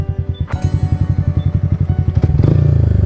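Motorcycle engine running close by while riding, a rapid regular thumping putter that grows louder and denser toward the end as it picks up speed.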